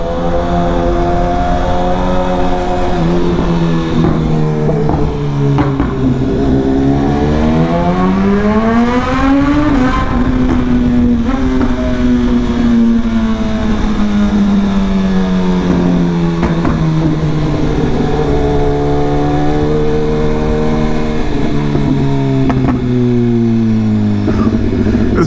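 BMW S1000RR sport bike accelerating through a Manhattan tunnel near the World Trade Center, engine pitch climbing and falling through gear changes, loud, close and continuous with echoing tunnel reverberation, no talking.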